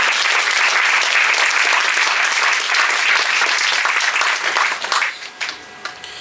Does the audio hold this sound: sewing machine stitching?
no